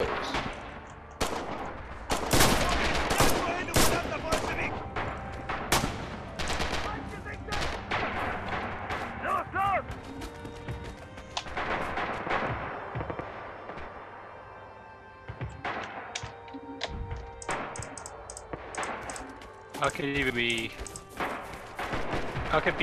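Gunfire in the World War II shooter Red Orchestra 2: dense bursts of rifle and machine-gun shots crack and boom throughout, with scattered distant explosions, loud and continuous, while players talk over the battle.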